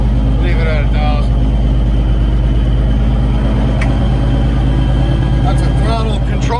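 A Cummins truck engine holds a steady low rumble near 1,000 RPM, loud and close, while someone talks over it with short pauses.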